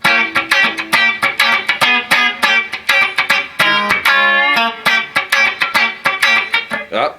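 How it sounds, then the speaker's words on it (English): Crisp, choppy funk electric guitar chords without a wah pedal, strummed in a tight rhythmic pattern, mostly short muted stabs with a few sustained hits, dry and fairly loud. "Without the wah-wah pedal, it sounds like this."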